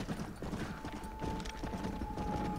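Horse hooves clip-clop in Red Dead Redemption: Undead Nightmare, a steady trotting rhythm of moderate, close hoofbeats under a faint held tone.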